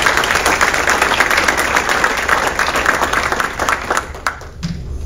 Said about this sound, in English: Let's give one more round of applause to Crew, Drew, Hannah, and Makenna.